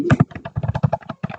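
Keys clatter on a computer keyboard as an IP address is typed, a quick run of close, uneven taps with brief pauses between bursts.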